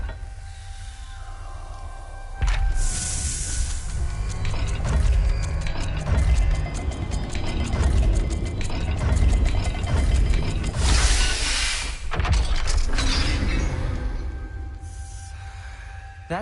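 A stone puzzle dial in Hogwarts Legacy turns with grinding, ratcheting clicks and clunks of gears, rising and falling over about sixteen seconds, with brief magical whooshes and no voices.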